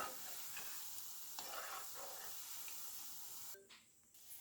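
Gulab jamun dough balls frying in hot oil, giving a steady soft sizzle and bubbling with faint stirring scrapes, moderately close, briefly dropping quieter near the end.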